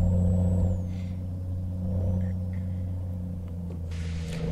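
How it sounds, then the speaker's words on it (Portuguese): Deep, steady truck engine roar in Euro Truck Simulator 2, a low droning rumble with strong harmonic tones holding constant, moderately loud, with faint clicks and a light whine over it. "O ronco desse caminhão, cara, tá sensacional, cara."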